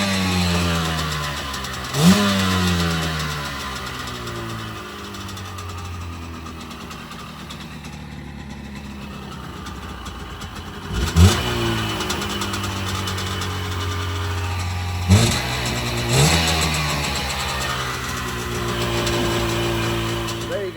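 A Rotax engine idles steadily and smokily after a carburetor rebuild, with a few sharp throttle blips rising and falling over its continuous, loud running note; no speech is heard.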